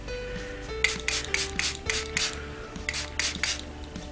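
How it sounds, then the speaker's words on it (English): A handheld spray bottle mists water onto a beauty blender makeup sponge, about eight short hissing spritzes in an uneven rhythm, close and distinct, with light squeezing and handling noises between them. "So I'll just use a spray that has water in it."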